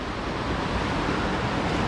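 River water flows in the Kananaskis wilderness near Trap Creek, a close, loud and constant broadband rush with no pauses or talk.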